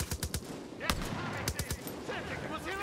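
Assault rifle gunfire in the video game Far Cry New Dawn, several sharp shots in quick bursts ringing out in the opening second and again around mid-clip, loud and close amid game ambience.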